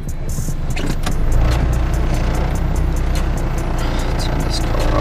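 A car engine idles steadily and loudly from inside the vehicle, a constant low rumble with faint ticking, as a voice talks over it.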